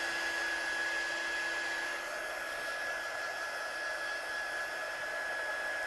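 Heat tool or hair dryer blowing to dry metallic stamp ink in a craft project: a loud, steady, close airflow roar with a constant whine that runs the whole time, with no talking.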